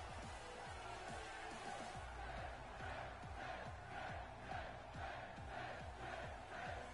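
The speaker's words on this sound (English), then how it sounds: "Crowd going wild here for Ty Dillinger with all these 10 chants." A wrestling show crowd cheers and chants in rhythmic unison for a wrestler's entrance, a loud, continuous roar with repeated pulsing chant beats, heard from within the arena.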